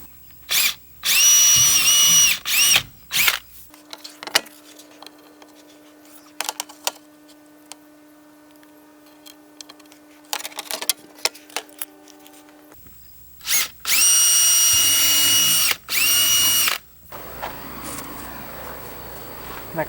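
A power drill boring holes through a fish tank window panel, loud close bursts of whirring drive separated by quiet pauses, with light tapping and handling in between and a later pair of long drilling runs.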